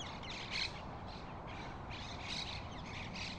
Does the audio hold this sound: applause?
no